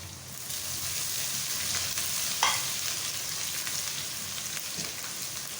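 Green chilies and ginger-garlic paste sizzle steadily in hot oil in a pan for aloo matar pulao, with a soft stir midway, a continuous close frying hiss and no talk.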